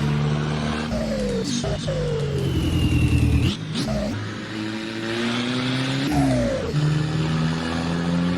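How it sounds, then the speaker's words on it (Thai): Modified Isuzu D-Max 2024 pickup accelerating on a winding Doi Suthep mountain road in Assetto Corsa, the engine climbing in pitch with quick shifts, a brief drop off the throttle, then revving hard again, loud and steady with no speech. "เราเร่งความเร็วเอาแล้วทุกคนนะ"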